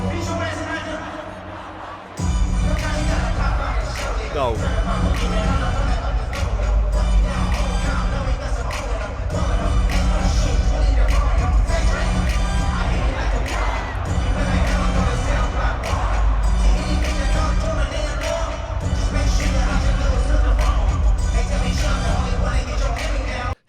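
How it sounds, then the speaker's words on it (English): A huge arena crowd sings along loudly and continuously at a concert in Toronto during a song, a dense roar of voices with booming bass beneath and a single shouted word near the start. "And listen to the crowd."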